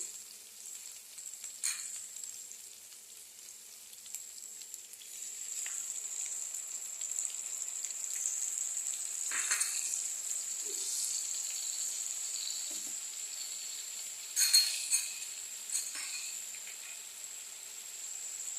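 Ginger paste frying in a pan for a Bengali fish curry, a faint, steady hiss of oil with a few light stirring clatters and scrapes scattered through, no one talking.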